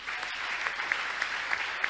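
An audience at a talk show event applauds in a brief, steady burst of clapping with a few sharper claps standing out.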